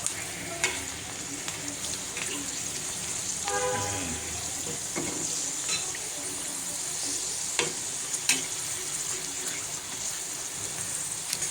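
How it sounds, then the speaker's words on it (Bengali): Rice flour pitha with fine patterned designs fry in hot oil over a medium flame, a steady close sizzle and bubbling with occasional sharp pops and faint stirring clinks, no voices. "চুলার জালটা মিডিয়ামে রেখে পিঠাগুলো ভাজতে হবে"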